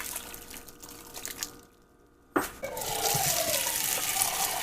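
Filtered water pours into a pot for kimchi soup, a steady near splash that starts suddenly after a short quiet and runs on, with a little talk before it.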